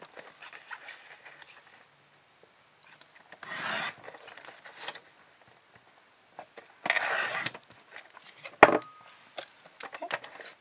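Paper trimmer blade sliding through cardstock in several separate short rasping strokes, close and fairly quiet, with quiet pauses between cuts.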